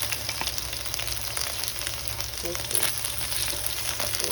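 Chicken fries in a pan with a dense, continuous sizzle and popping at moderate loudness, while a person speaks briefly over it.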